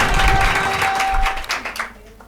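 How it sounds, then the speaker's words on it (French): Audience applause for AS15 Zambougou at a gathering in Mali, loud crowd clapping with cheering voices that fades out toward the end. "AS15 Zambougou, applaudissez pour vous-même."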